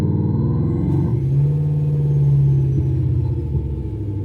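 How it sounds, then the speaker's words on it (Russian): A simulated Jaguar engine sound plays from a phone app, a steady low rumbling idle with a slight rise in revs midway, continuous and fairly loud with no talking. "Вот, вот так работает Ягуар."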